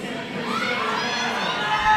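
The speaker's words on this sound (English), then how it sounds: "You can hear all the cheering in the background." Crowd noise and cheering fill the background at a powerlifting competition, a steady, moderately loud wash of many voices with some higher shouts, continuous throughout and swelling slightly near the end.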